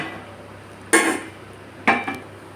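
A metal lid is set onto a pot of fish and potato curry with a sharp clank, then clatters again with a quick double knock against the rim, close and distinct over a low kitchen hum.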